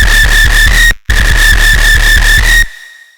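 Bass synth preset modelled on a bass sound, rebuilt in the Fabrik synth and pitched higher: a loud, buzzy tone with a whistling upper edge, chopped into rapid pulses, cutting out briefly near one second, then stopping abruptly.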